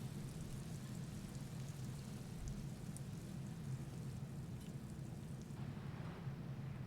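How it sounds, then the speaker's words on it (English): Steady rain falls in the video game Disco Elysium, a soft, even hiss with a faint low rumble underneath, continuous and without any voices. "Oh, good, it's raining."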